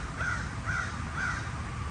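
Crows perched on a branch in a small family cemetery behind a Georgia fire station give three evenly spaced caws, steady and moderately close, over a constant low outdoor rumble.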